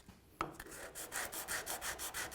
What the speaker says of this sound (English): I'm going around now with a piece of 220 sandpaper, and I'm sanding all the surfaces of the guards and the inwhales